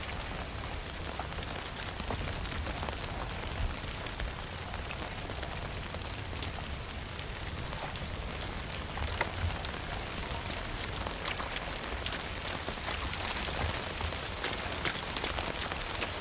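Steady rain falls in The Last of Us Part II, a dense, even patter of drops hitting surfaces. It holds at a moderate level throughout, with no speech over it.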